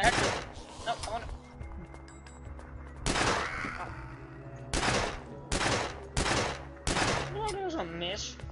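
Bursts of gunfire in The Last Stand: Union City video game, several loud sharp volleys spaced a second or so apart, with a person talking between and over the shots.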